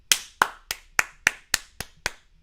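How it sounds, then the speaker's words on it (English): One person claps their hands eight times in a steady, slightly irregular rhythm, each clap sharp and close with a short decay, in a quiet room. "Can you hear me clapping?"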